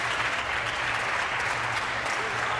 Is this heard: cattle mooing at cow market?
no